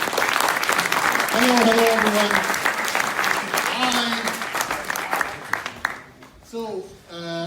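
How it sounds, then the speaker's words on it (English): Audience applause at a tech talk event rises loud and dense, then fades out over several seconds while a speaker's voice greets the room over it. "a big applause to Marco!"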